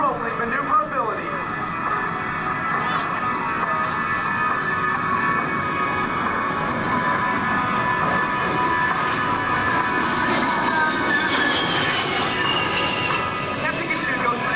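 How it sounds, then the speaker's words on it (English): A-10 Thunderbolt II jet flying an aerobatic roll demonstration at an air show, a continuous loud engine roar with a rising whine toward the end, under an announcer's voice. "Displaying the A-10's rolling maneuverability."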